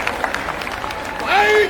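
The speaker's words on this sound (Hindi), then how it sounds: "एक बार जोरदार तालियां बजाओ," A crowd at an election campaign rally claps in a loose, scattered patter, then a louder voice-like tone rises over it near the end.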